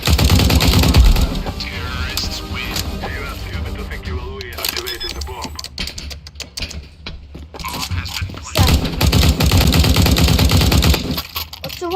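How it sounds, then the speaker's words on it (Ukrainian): SG-553 rifle gunfire in a video game, rapid bursts of automatic shots with mechanical clicks and metallic rattles, loud at the start and end with a quieter stretch in between. "СГ-553 мені подобається. Прикольна пушка."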